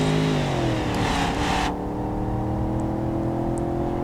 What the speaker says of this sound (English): Anyway, so floor it now.